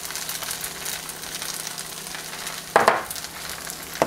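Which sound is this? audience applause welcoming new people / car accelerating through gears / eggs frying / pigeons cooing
eggs frying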